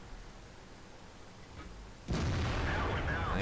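After a quiet stretch, a single loud tank cannon blast in World of Tanks booms out suddenly and rolls on with a heavy, rumbling tail.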